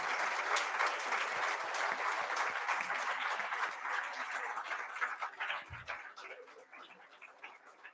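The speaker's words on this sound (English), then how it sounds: "Can we give all of them a huge round of applause?" Parents and guests at a school class presentation give a huge round of applause for the students, dense clapping that holds steady and then thins out toward the end.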